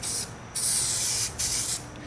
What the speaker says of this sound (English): I use an adhesion spray, adhesion promoter, just a real quick spray over that